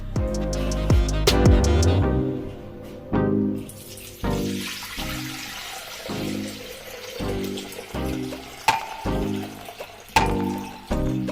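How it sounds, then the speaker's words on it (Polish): Water runs and splashes steadily from a tap, pouring with a hollow, sloshing sound into a mixing bowl, about 1600 g, with a few clinks. "a do naczynia miksującego wlewamy 1600 g wody"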